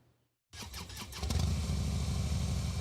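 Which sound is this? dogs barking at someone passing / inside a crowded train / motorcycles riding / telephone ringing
motorcycles riding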